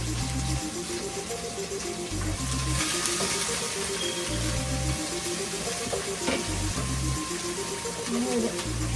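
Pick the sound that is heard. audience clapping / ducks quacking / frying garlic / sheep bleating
frying garlic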